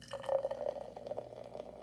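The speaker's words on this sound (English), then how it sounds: "Let's pour it in. So here's the Sprite Zero." Sprite Zero poured into a container, a soft, faint trickle and splash of liquid running steadily for a couple of seconds, close to the listener with no talking.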